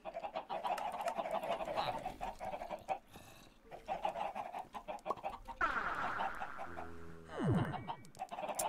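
Chickens in a video game cluck and squawk in repeated bursts, fairly close and loud, with a rising swoosh of game sound near the end.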